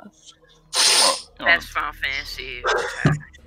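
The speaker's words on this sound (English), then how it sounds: "Sneeze, God bless you." A single loud, explosive sneeze close to the microphone, followed by people talking casually around a tabletop game.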